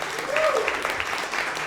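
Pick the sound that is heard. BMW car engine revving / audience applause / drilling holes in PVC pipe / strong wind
audience applause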